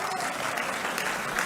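Applause from a conference audience welcoming a speaker to the dais at a national pharmaceutical intellectual property rights conference, dense and steady clapping at close range throughout without pause.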